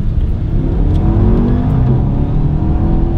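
A Porsche Panamera or BMW 320 Turbo car engine revs hard in second gear under heavy acceleration, a loud, continuous close-up roar with rising harmonics throughout.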